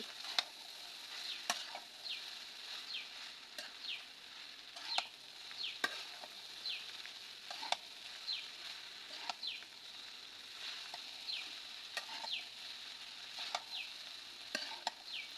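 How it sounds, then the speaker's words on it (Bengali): Chow mein being stirred and tossed in a frying pan, with a steady soft sizzle and repeated scraping strokes of the utensil, fairly quiet and close, with faint high chirps recurring in the background. "এবার ভালোভাবে সব কিছু আমি মিশিয়ে নেব"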